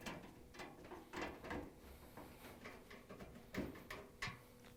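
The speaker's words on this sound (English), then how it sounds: "we can use a 1/4-inch nut driver to put in the screws" A 1/4-inch nut driver turns screws into a GE dryer's front panel, giving faint, close ratcheting clicks and metallic scrapes in short repeated bursts against a quiet background.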